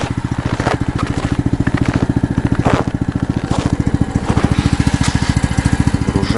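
An Albatros outboard motor runs just after starting, a loud, close, rapidly pulsing putter that stays steady throughout with no voices.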